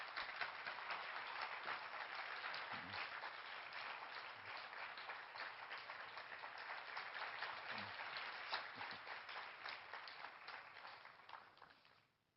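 A conference audience claps to welcome a former ambassador to Libya onto a talk-concert stage, sustained dense applause from a distance that stays even for about twelve seconds and fades at the end.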